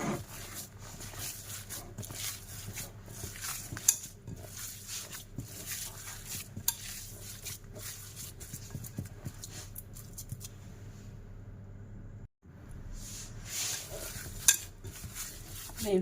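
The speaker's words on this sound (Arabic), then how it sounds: "كنبقاو هكا كنعجنو هكا الكفته ديالنا" Minced meat kofta mixture for a rice-with-kofta dish, with saffron added, is kneaded and squeezed by hand in a bowl, giving a steady, close, moist squelching and slapping texture that runs almost continuously, with one brief gap near the end.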